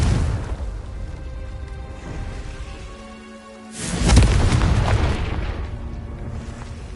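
A Confringo spell explosion in a video game bursts out as a loud, rumbling boom after a brief lull, followed by a sustained roaring wash of noise that slowly fades.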